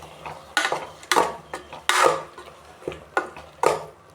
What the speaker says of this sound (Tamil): மசாலா போட்டதும் நல்லா ஒரு தடவை கலந்து விட்டுக்குங்க.